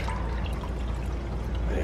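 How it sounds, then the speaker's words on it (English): Water poured onto a callaloo plant growing outdoors in the desert, a steady close splashing pour that runs continuously at moderate loudness. "And put a bit of water in it."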